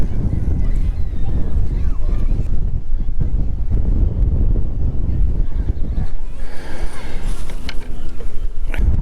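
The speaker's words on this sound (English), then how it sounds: "The wind's got to be at least maybe 5-10 mile an hour gusts coming from my back forward." Wind gusts buffet the microphone on an ocean fishing pier at Cape Henlopen State Park, a loud, rough rumble that roars steadily and swells in bursts, with a person talking through part of it.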